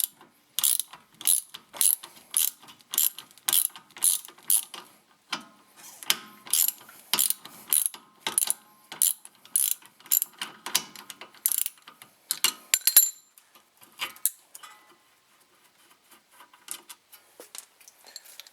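A ratchet clicks in quick repeated bursts while loosening a rear brake caliper bolt on a 2004 Volkswagen Jetta TDI, close and crisp, with pauses between strokes that thin out toward the end.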